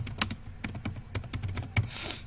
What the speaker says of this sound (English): so I am typing here